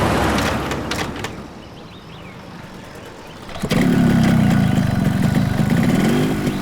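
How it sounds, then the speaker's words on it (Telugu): Motorcycle engine starting up, a muffled clunk and shuffle followed by the engine catching and settling into a loud, close, steady running drone. "బైక్ స్టార్ట్ అయింది"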